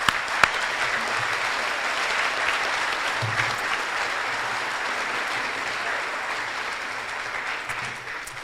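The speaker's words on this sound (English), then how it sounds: "Let's give it a round of applause, please, as they come up." Sustained audience applause at a high school graduation ceremony, a broad, even wash of many hands clapping in a large venue, steady throughout with no speech over it.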